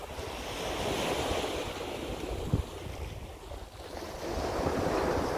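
Sea waves at Barceloneta beach in Barcelona, a continuous roar of surf with wind buffeting the microphone and a gentle swell in loudness near the end.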